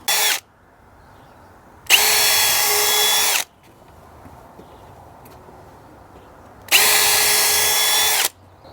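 A power drill pre-drills holes in wood for a simple wooden gate, sounding as two short, loud whining bursts of a second or so each, separated by quiet pauses.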